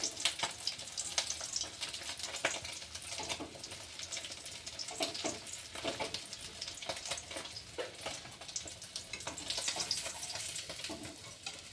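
Fish frying in hot oil in a home kitchen, a steady close sizzle with scattered crackles and pops, fairly quiet, with no talking.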